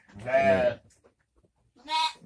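Two loud, close bleats from sacrificial livestock at a traditional pen, the first long and wavering, the second shorter after a pause; tagged as goat-like, so the animals may be goats rather than sheep.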